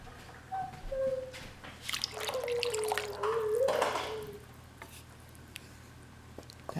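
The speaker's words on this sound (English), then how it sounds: "So I'm just going to add a little bit more water." Water is poured into a crockpot of taco soup, a soft trickling and gurgling stream lasting a couple of seconds with small drips around it, fairly quiet against a faint background hum.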